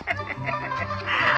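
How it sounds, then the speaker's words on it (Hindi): Chicken or rooster clucking in short bursts over a low steady hum, fairly close and moderately loud, with no clear speech. "ये देखो तुम्हारे लिए एक अच्छा सा मुर्गा लाया हूँ"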